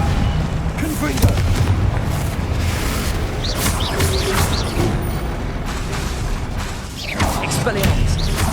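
Confringo spell blasts in Hogwarts Legacy land as a run of loud, deep booms and crashing bursts. The hits come in repeated waves amid other game effects, with a short lull before the final burst.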